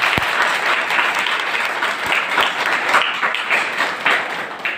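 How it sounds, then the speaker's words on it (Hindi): A church congregation claps in praise during a Hindi worship service, loud, dense and continuous, with a few sharper individual claps standing out near the start. "ताली बजाओ प्रभु को।"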